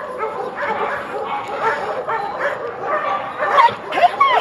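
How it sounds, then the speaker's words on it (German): A dog yips and whimpers in repeated short, close, fairly loud cries, with brief barks, while people speak nearby. "Das ist ein ganz, ein toller Hund"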